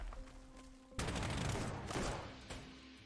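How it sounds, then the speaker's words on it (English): Artillery fire bombarding a city in the Panzer Corps 2 strategy game, set in northern Poland, with a sudden loud blast followed by a rumbling barrage that fades out, then a smaller second impact. "I think we need to start bombarding that city"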